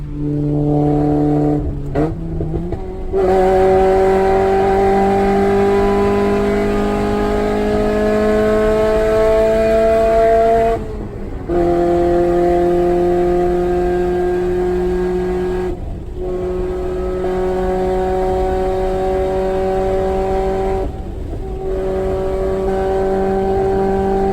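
A loud B16A engine in a Honda Civic EK with a Hondata S300 and new exhaust pulls hard through several rising runs, each one rising in pitch before a brief drop as the next gear catches, with a raspy exhaust tone.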